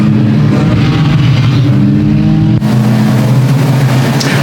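Race cars at the start of a Combined 4's race at Sauble Speedway, a loud, continuous engine roar with rising revs as the pack accelerates close by, steady throughout with a brief shift partway.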